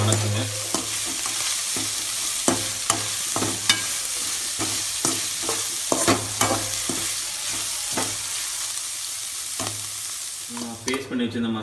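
Boiled intestines are stirred in a pan for a Tamil kudal varuval (boti) gravy, with a steady close sizzle of frying broken by regular sharp scrapes and knocks of the spoon against the pan, and no talking.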